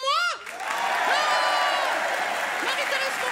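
A theatre audience at a live comedy stage show cheers and shouts in acclamation, with rising, sustained whoops and voices swelling over a bed of clapping that holds steady to the end.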